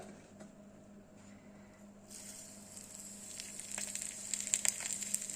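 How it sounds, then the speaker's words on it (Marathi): Cumin seeds hit hot oil for a tadka while making dahi pohe, a soft sizzle rising after about two seconds and crackling faintly under a steady low room hum. "आता फोडणीमध्ये घालायचं जिरं"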